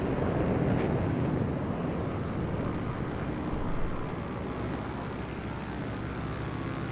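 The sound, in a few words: airplane engine in a flight simulator video game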